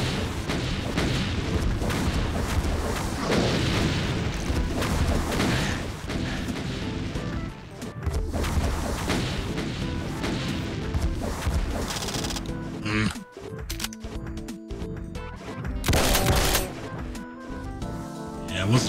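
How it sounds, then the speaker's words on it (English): Scrap gun blasts and rocket explosions in Doom, heavy booming impacts and crashes piling up loud and near over driving game music, with a brief lull before another burst. "Scrap gun was the right"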